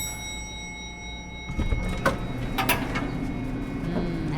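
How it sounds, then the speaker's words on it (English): A lift door sliding open, heard as a sudden mechanical rumble followed by a few short clunks and rattles over a steady background hum. "if you guessed a lift door opening"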